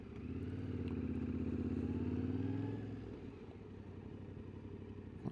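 A Yamaha Tenere 700 motorcycle accelerates hard through its gears, the engine note rising loud and near for about three seconds before dropping into a quieter rumble as it pulls away.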